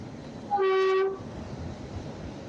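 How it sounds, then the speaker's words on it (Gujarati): A meter gauge train horn sounds one short, clear blast at a distance over a low rumbling background, in the Gir forest. "આ એક વધુ ટ્રેન જુનાગઢ તરફ જતી અહીં એનું ક્રોસિંગ થઈ રહ્યું છે"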